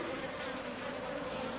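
Apis cerana indica honey bees swarm around an open feeding spot in Himachal Pradesh, India, a close, dense, continuous droning buzz with no pauses.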